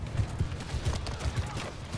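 Horses galloping in the Mount & Blade II Bannerlord video game, a steady run of low hoof thuds beneath a busy battle din, moderately loud with no voices.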